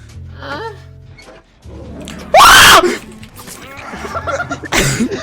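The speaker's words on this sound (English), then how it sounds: "that was a squeal. You squealed." A person lets out a single loud, high-pitched squeal that lasts about half a second, set among talking and other vocal noises.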